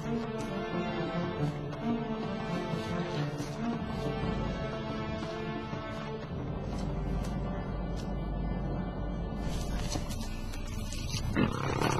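A lion gives a deep, rumbling warning roar in the wild; the growls are sustained and fairly close, with brief rustling and no voices over them.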